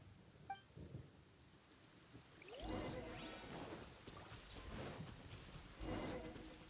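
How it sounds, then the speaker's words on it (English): A thunderstorm in the Genshin Impact video game: a deep rolling thunder crash breaks in after a quiet start, followed by rumbling rain and another surge of thunder near the end. "Uh-oh! Lightning storm!"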